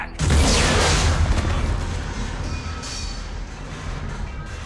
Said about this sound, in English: Bomb! Get back!